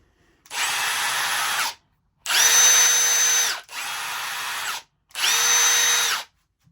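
A Milwaukee 3697-22 cordless drill whirs in four short bursts of about a second each, separated by brief pauses, close and loud with no talking.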